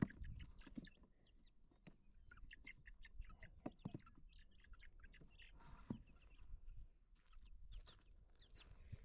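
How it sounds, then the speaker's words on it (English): Young chicks, black and white with speckles, fresh out of a brooder, give scattered high peeps and chirps, some deepening toward an older peep, repeated irregularly at close range over soft background rustle, with no talking. "This one's definitely getting an older kind of peep about him."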